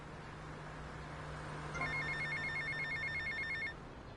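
Payphone in the video game GTA Vice City ringing with a rapid electronic trill that starts partway through and lasts about two seconds over a faint steady hum.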